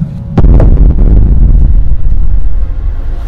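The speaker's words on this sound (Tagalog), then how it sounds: "sa pagsabog ng itim na usok ay lumantad nga si Gregorio" A loud, sudden blast followed by a heavy rolling rumble that lingers and slowly fades.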